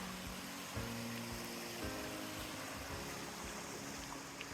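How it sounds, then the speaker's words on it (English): Waterfall and stream flowing at a state park campsite, heard as a steady, broadband rush of water that stays loud and continuous throughout with no talking. "we've got a waterfall right here"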